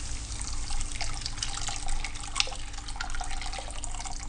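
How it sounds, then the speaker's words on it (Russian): Boiling water is poured into a hot pan of frying tomato paste, giving a brief splashing trickle with hissing and a few drips over a steady low hum. "вливаем кипяток"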